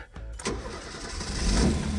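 A Ford Fiesta race-styled car cranks briefly, then its engine catches and settles into a close, rumbling idle.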